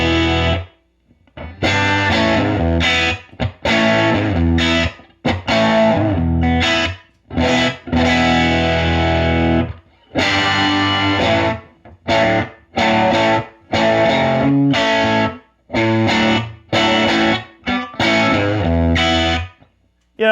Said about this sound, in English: This is the dry, absolutely dry signal.